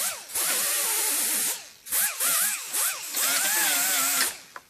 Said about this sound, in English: take one of these, I call them polishing pads, but it's like a gasket remover essentially